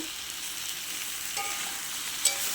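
Fish head with potato and pointed gourd frying and being stirred in a hot pan: a close, continuous sizzle with a couple of light scrapes and one brief clink near the end.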